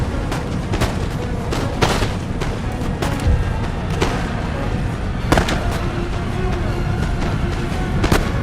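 Sharp volleys of musket fire crack out at intervals across a Total War Empire battlefield, several separate loud bursts over a steady din of battle, with a voice calling out briefly.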